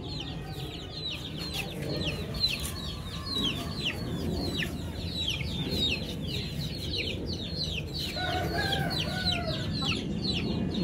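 Rampuri Aseel chickens from Kolkata cluck and call repeatedly in a busy, continuous chorus, with a steady murmur of background noise beneath the close, overlapping bird sounds.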